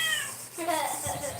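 A pet cat meows in a short, rising cry, fairly close and clear, with faint room noise and a voice nearby during a live drawing stream.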